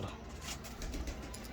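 Pet pigeons in a loft coo softly, faint low murmuring calls in a short burst.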